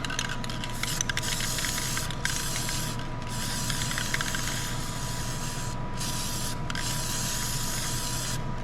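An aerosol can of guide coat sprays onto a part during a 1920 Nash 687 engine rebuild, giving a steady loud hiss broken by a few brief pauses.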